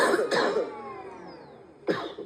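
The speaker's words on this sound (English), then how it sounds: "Oh my God, the coughing." Two harsh coughs, one at the start and another near the end, with a quieter gap between them.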